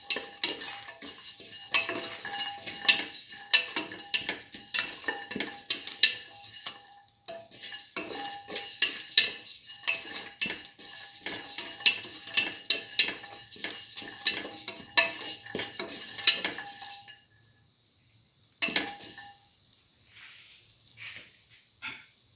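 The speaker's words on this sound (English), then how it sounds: "Thoroughly sauteing this." Black lentil stew ingredients are sautéed and stirred in a pot, with repeated scraping and clinking of a utensil against metal over a faint sizzle, steady for most of the time before going quiet, then a few last stirs.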